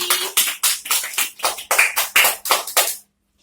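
A fourth-grade class claps for a student named Hadi in a rhythmic series of about ten evenly spaced, loud group claps, stopping abruptly after three seconds.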